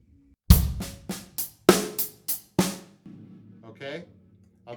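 Drum kit playing an inverted paradiddle groove with the bass drum only on the first note, a run of sharp, loud snare and hi-hat strokes in a steady rhythm, then fading to quieter, softer hits near the end.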